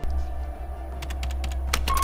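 Keys tapped on a computer keyboard, a short run of quiet, irregular clicks over a low steady hum, growing a bit busier toward the end.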